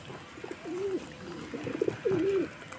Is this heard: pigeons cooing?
yes